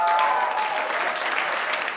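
A large audience at the RAISE AI summit in Paris breaks into a round of applause. The dense, steady clapping fills the hall and fades slightly toward the end.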